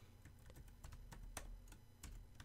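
Steady typing on a computer keyboard, rapid irregular clicks and key taps close up and fairly quiet, continuing without pause and with no voices.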